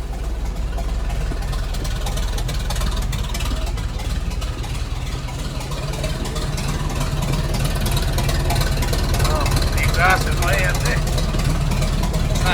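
A 1928 Ahrens-Fox N-S-4 combination pumper fire engine idles nearby with a deep, steady rumble throughout, while people talk over it.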